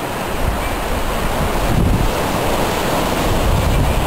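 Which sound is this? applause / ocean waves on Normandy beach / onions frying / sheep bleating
ocean waves on Normandy beach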